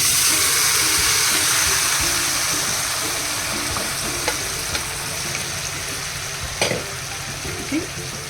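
Jackfruit seeds and cucumber sizzle steadily in hot oil in a pot over a high flame, with a continuous close frying hiss broken by occasional scrapes and clinks of a spoon stirring.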